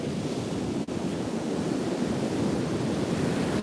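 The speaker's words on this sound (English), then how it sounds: "the ocean is louder than the wind" Ocean surf rolls onto a beach in a constant hissing wash mixed with wind rushing past the microphone, steady and enveloping, with a brief dip near the start and no speech.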